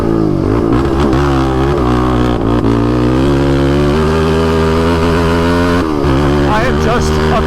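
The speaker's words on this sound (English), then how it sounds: "I am just abusing the clutch right now." A motorcycle engine revs hard and unevenly as the rider slips the clutch on a tight stretch of an off-road race course, loud and close, the pitch climbing, dropping and surging, with a voice talking over it.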